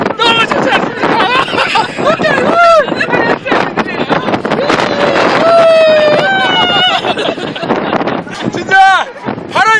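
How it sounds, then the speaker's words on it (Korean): Strong sea wind gusting on the coast near Melbourne, Australia, roaring and buffeting loudly against the microphone in bursts, with someone talking over it throughout. "진짜 바람이 정말 거세거든요"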